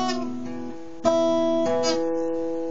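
Acoustic guitar picking a strummed pattern in a solo style, two fretted strings struck together then open strings ringing, a fresh attack about a second in and sustained chords, played alone and close.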